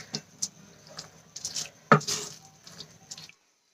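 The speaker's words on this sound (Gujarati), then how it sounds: "અહીંયા બેથી ત્રણ ચમચી જેટલું પાણી એડ કરું છું" A few short splashes and drips of water, two to three spoonfuls, falling into batter in a bowl, with a louder pour near the middle, then quiet.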